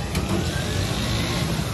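A motorbike engine idles and revs in a flooded street after heavy rain, producing a steady mid-pitched rumble close to the microphone with slight surges and no talking.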